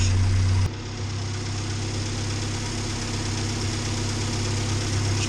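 A Morris Series 2 car engine idles steadily while warming up, a loud close mechanical chug with a faint knock that holds constant after a brief louder start.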